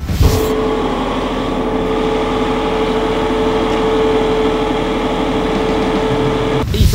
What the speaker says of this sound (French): le tracteur 8310 Fast Track de JCB équipé d'un moteur Cummins de 6 cylindres